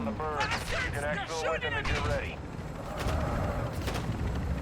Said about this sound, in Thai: โดนยิงผมโดนยิง